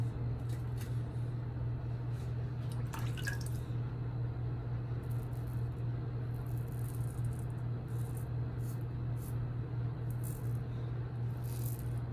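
A straight razor, the Abbate y La Mantia Isacco, scrapes across wet lathered skin on a third pass against the grain, giving quiet, brief rasping strokes in separate bursts over a steady low electrical hum.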